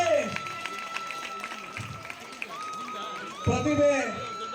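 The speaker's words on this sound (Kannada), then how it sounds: "ಜೋರಾಗಿ ಚಪ್ಪಾಳೆ" A crowd applauds at a government pre-university college celebration in Pavagada as students are called up, a rough clapping texture running beneath someone speaking loudly over a PA.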